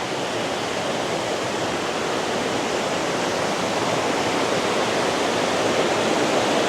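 Seven-stage waterfall in the American Southwest, its water pouring in a dense, steady roar of broadband rushing that stays loud and unbroken throughout, with no voices.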